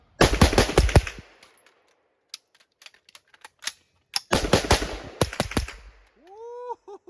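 Rifle fire on an outdoor shooting range, a .22 or 5.56, comes in loud, close bursts of rapid sharp shots, with quiet gaps and a few isolated shots between the strings.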